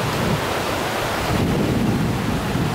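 River rapids rush over orange rock beside a deep pool in Green River Gorge, a loud, continuous broadband roar of water with no voices.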